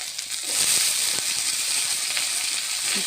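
Onion, potatoes and pointed gourd fry together in hot oil, producing a close, continuous hissing sizzle with scattered small crackles and pops throughout.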